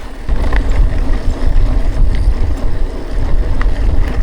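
Steady wind blowing outdoors past a reed field, a loud continuous low rumble and buffeting roar on the microphone with no gaps throughout.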